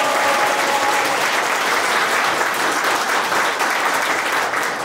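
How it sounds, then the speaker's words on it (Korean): Loud, steady applause from a crowd at a team launch ceremony, a continuous dense clapping wash that holds evenly with no voices over it. "박수 한번 크게 부르시기"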